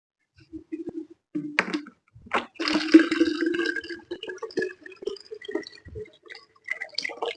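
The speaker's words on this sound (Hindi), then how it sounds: "मैं थोड़ा पानी पीता हूँ" A teacher drinking water during a live class, with quiet intermittent gulps, sips and small liquid sounds, close to the microphone, separated by brief pauses.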